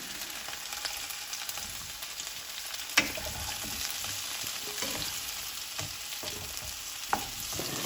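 Masala pooris deep-fry in a pan of hot oil, giving a steady, moderately quiet bubbling sizzle, with a couple of sharp clinks or pops breaking through and no voices.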